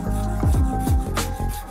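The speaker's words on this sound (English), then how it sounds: "we're gonna leave it right there and cut the rest off the butt." A fishing rod blank having its butt end cut off, a close, steady rasping and rubbing with a few quick strokes, heard alone.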